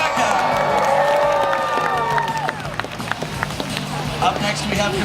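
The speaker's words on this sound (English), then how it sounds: "Let's give a big round of applause," Audience applause and cheering fill SeaWorld Stadium during a killer whale show, a dense, steady roar of clapping with rising whoops and whistle-like calls layered on top throughout.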